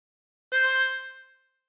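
A single blow note on hole seven of a harmonica, sustained for about a second with a bright, reedy tone, then fading out alone.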